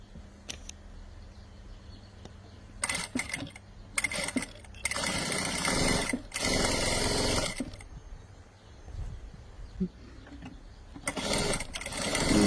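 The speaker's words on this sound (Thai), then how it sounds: "เย็บเราเย็บข้างเดียวไปก่อนจ้ะ" Sewing machine stitching one side of a bag, with short buzzing bursts early on and then longer continuous runs of rapid whirring, close by with pauses between stretches of sewing.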